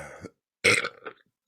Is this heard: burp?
yes